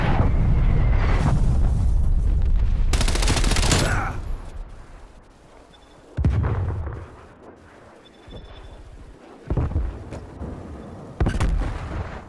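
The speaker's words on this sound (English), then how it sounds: "Throwing grenade." Grenade blast and gunfire in Call of Duty: Cold War multiplayer: a loud booming explosion followed by sharp bursts of shots and further booms, close and forceful, with brief game voice callouts.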